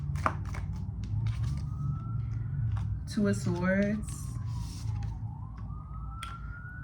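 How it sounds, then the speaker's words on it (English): Emergency vehicle sirens pass outside, rising and falling wails that sweep in the distance under a person talking close by indoors. "sorry about the sirens"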